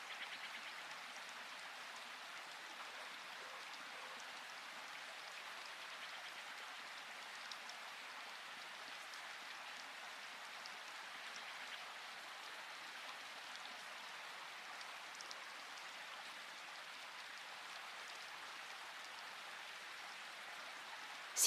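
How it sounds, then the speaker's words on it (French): Steady, even rain falling in a soft continuous hiss, faint and unchanging throughout with no voices. "La pluie tombe sans effort, sans attente"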